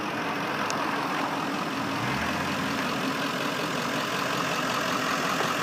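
A 2008 Ford Crown Victoria Police Interceptor idles nearby, a steady low rumble holding even throughout with a faint brief tone near the start.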